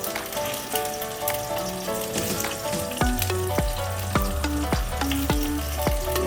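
An egg fries in a pan on low heat while being turned with a spoon, a continuous sizzle broken by a run of sharp metallic scrapes and taps in the second half.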